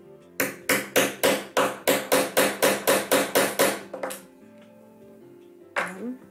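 A hammer strikes a hole punch through the pages of a paper concertina mini album: about fourteen sharp, evenly spaced blows in quick succession, loud and close, then a pause and one final hit.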